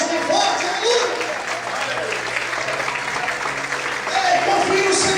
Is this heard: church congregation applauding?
yes